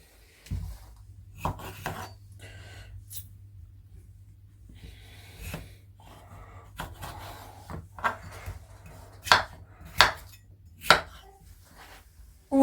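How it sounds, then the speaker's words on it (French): Cooked potatoes cut on a wooden board, giving irregular knife knocks and scraping strokes that pick up in pace toward the end over a low steady hum, close, with no one speaking. "les pommes de terre sont cuites. Sont cuites, sont coupées."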